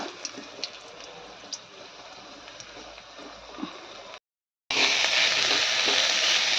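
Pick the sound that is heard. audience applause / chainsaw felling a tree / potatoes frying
potatoes frying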